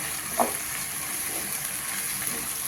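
Onions browning in a pan for a Kerala pork and plantain roast give off a steady, close frying sizzle with faint stirring scrapes and one brief clink early on, and no voices.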